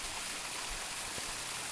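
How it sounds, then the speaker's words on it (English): A small waterfall trickling in Priory Groves, Brecon, swollen by heavy rain, gives a steady close wash of splashing water with no break across the moment. "there are little waterfalls like this"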